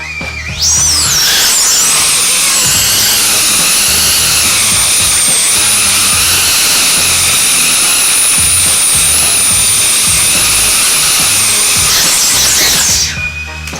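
Freshly assembled drone motors spin up to a loud, high-pitched whine, hold a steady buzzing scream for around eleven seconds in a cramped space, then wind down, close to the listener.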